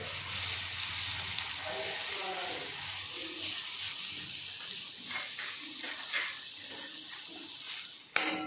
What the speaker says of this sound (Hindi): छान तेलामध्ये फ्राय करून घेऊया